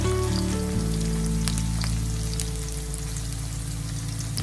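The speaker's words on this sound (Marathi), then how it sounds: "आता आपल्याला हे सर्व व्यवस्थित परतून घ्यायचं आहे" Onion and green chili sautéing in a hot pan, a loud, continuous sizzle with crackling spatter and a steady low hum underneath, no voices.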